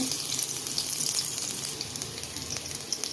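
Fenugreek seeds and crushed garlic fry in hot oil with a continuous, fairly quiet crackling sizzle, close by and without voices.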